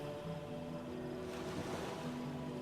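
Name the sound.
water waves effect in the video game Divinity: Original Sin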